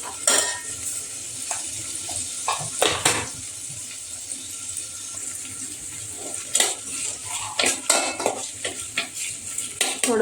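Mustard seeds frying in a home kitchen pan for masala rice, with a soft sizzle beneath repeated scraping and clinking of a metal spoon as they are stirred, punctuated by sharper clatters; no talking.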